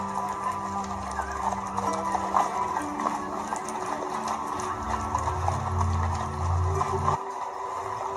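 Several horses trot on a road in a scene from The Last of Us TV series, with rhythmic clip-clop hoofbeats over a steady low rumble and background score.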